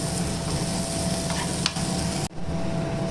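Chili powder and coriander powder roasting in a pan, a continuous close sizzle with a brief stir and a scrape near the end.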